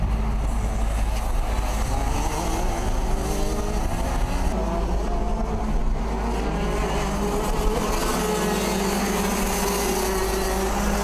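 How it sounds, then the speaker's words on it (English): Rotax DD2 racing karts compete on a track at a Swakop kart day in Namibia, their engines droning loud and continuous with shifting pitch as the karts race close by. "Liam Gilchrist, a karting rookie, taking on a pair of DD2 masters from South Africa"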